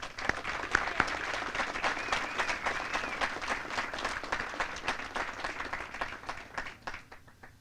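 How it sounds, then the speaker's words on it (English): An audience at a 1st Regiment Basic Camp military graduation ceremony applauds the awardees, dense steady clapping from a large crowd that thins out near the end. "Ladies and gentlemen, please join me in giving our awardees a round of applause."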